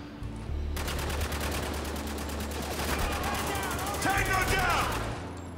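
Rapid automatic AK-47 fire in Spec Ops: The Line, a fast steady stream of shots lasting several seconds after a brief quiet start, loud and close with some game sounds layered in.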